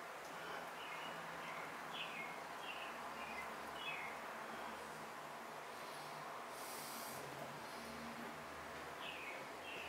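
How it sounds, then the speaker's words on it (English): Faint bird chirps and short twittering calls repeat in the distance over a steady outdoor hiss and low rumble. "I can hear a lovely bird out there twittering away."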